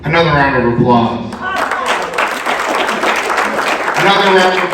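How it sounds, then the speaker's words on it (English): Audience applause at an awards ceremony, a steady patter of clapping that rises after someone speaks over it at the start and carries on beneath his voice near the end. "Another round of applause."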